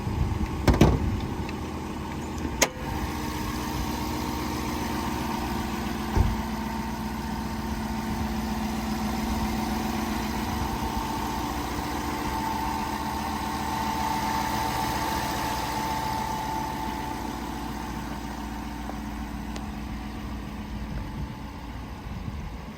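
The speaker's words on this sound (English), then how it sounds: "So the exhaust on this vehicle is completely stock" A stock-exhaust 2020 Dodge Durango R/T idles in a low, steady rumble that holds level throughout, with a couple of brief knocks near the start.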